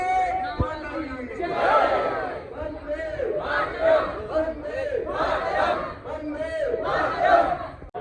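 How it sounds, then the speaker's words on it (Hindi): A dense crowd queues for the Gulmarg gondola in snowy Kashmir, with many overlapping voices calling and chattering in a loud, continuous hubbub. "बहुत भीड़ है भाई"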